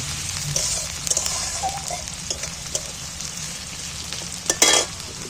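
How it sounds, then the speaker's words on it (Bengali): Onions frying in oil in a pan, a steady broadband sizzle running throughout with a few soft utensil scrapes and a sharper clatter near the end, close and fairly loud, no talking. "এবার পেঁয়াজগুলোকে তেলের মধ্যে বেশ লাল লাল করে ভেজে নিব"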